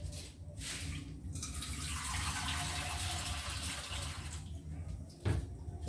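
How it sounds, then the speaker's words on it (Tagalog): Water pours steadily into a pot with a broad, rushing splash that runs for several seconds, then stops with a small clunk. "lagyan natin ng tubig"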